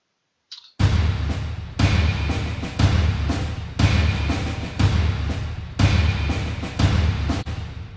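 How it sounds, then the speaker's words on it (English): Orchestral percussion hits hard in a repeating pattern, booming low drums with crisp marching snare rolls layered on top, loud and close, with no voices. "the percussion sounds like this together"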